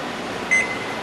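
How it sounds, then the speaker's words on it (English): A bread maker gives one short, clear electronic beep, a single steady tone against a quiet background hum. "Now that I've heard the bread maker beep"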